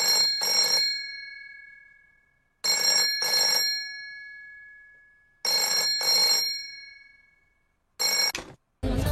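An old-style telephone bell rings in three long double bursts separated by pauses, loud and close, then a fourth ring cuts off abruptly, with no voices.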